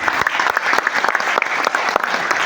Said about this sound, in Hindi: तो एक बार अपने लिए तालियां बजा दीजिए।